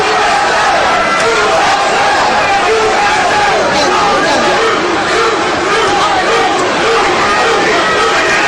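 Boxing arena crowd chanting USA for Vince Phillips during his fight with Kostya Tszyu, a dense, loud, continuous roar of many voices filling the whole stretch.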